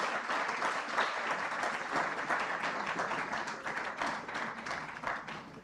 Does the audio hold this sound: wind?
no